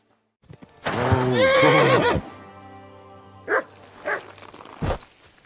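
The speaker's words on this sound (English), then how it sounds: "that looks like a bloody expensive horse." A horse in the video game Kingdom Come: Deliverance 2 lets out a loud, wavering whinny, followed by a few distinct hoof thuds and snorts in a quiet setting.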